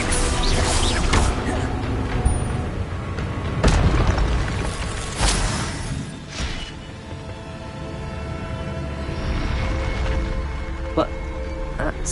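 Incendio fire spell blasts in Hogwarts Legacy, several loud booming bursts and crackling impacts over the first half, fading to a quieter rumble, with a player talking over the game sounds.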